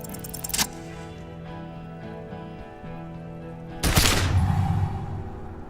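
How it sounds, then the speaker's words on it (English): A gunshot from the video game Disco Elysium, a sudden loud broadband blast that rings out over a quiet tonal music bed, preceded by a shorter sharp crack. "A plume of smoke and fire erupts from the gun, and your hand goes numb from the explosion."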